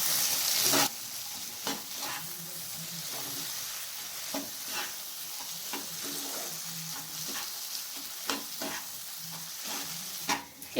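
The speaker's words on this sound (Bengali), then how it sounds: "কড়াইশুঁটিগুলোকে মশলার সাথে ভালো করে মিশিয়ে নিচ্ছি।" Green peas being stirred with spices in a frying pan for matar paneer: a steady soft sizzle with repeated scraping spatula strokes in an irregular rhythm, close and moderately loud, with no talking.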